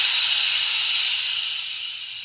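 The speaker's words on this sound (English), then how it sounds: "And all three engines let off steam in a cheeky way." Small HO/OO-scale model steam engines let off steam in a loud, continuous hiss that stays bright and close, then eases slightly as it fades.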